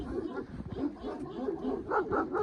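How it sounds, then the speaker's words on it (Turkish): A dog yips and whines in short, uneven bursts close by, with some rougher barking sounds mixed in. "Sonra burada köpekler var."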